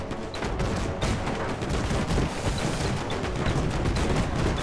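Massed airship weapons fire in the steampunk strategy game Airships: Conquer the Skies, a dense, continuous barrage of overlapping shots and booms at steady loudness with no talk.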